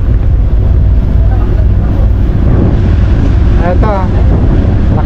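Strong wind buffets a boat at sea in Vietnamese waters on a passage from the West Philippine Sea into the South China Sea, a loud, steady roar of gusts and rushing water, with a brief voice-like sound near the end.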